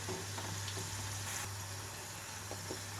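Fenugreek leaf pakodi fritters frying in hot oil, a steady close sizzle with soft crackling bubbles running evenly throughout.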